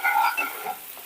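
Masala corn with coriander is stirred into butter in a pan over a low flame, giving a steady soft sizzle with a scraping, bubbly texture and no voices.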